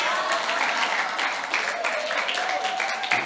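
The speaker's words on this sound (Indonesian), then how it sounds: "Beri tepuk tangan lu buat Pak Pendeta Indonesia Online Church." A church congregation applauds its pastor during an online church service, with dense, sustained clapping from many hands and voices mixed in throughout.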